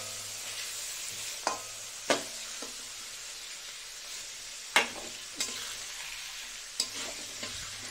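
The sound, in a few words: frying egg and chicken for chow mein in oil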